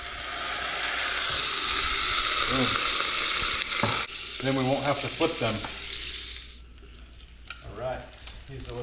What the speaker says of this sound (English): So I'm just going to throw a little splash of water in there to steam it.